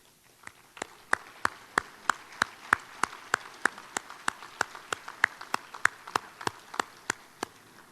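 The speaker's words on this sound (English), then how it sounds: "I'd like to have a big round of applause for our ambassadors and the work they do." Evenly spaced sharp claps, about two per second, ring out alone in a room at a Chamber of Commerce monthly luncheon as the audience applauds the chamber ambassadors; the sound is moderately loud and steady, with no other sound.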